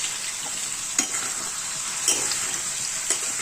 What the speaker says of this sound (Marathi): पनीर फ्राय करायला ठेवलेलं आहे हे